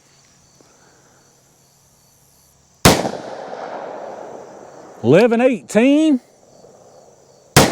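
Two sharp, loud handgun shots from a longer-barrel pistol firing self-defense ammunition, one near the start and one at the very end, each with a quick ringing decay, and someone speaks briefly between them.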